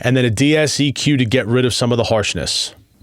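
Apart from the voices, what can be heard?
No everyday noises stand out.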